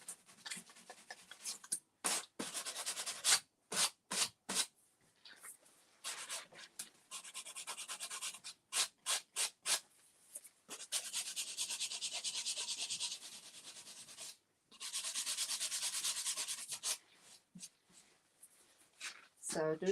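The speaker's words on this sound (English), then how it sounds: "So I'm having a sanding sponge here" A sanding sponge rubs over the edges of a painted Valentine's art project in quick scratchy strokes and longer steady passes, broken by short pauses, close and fairly loud.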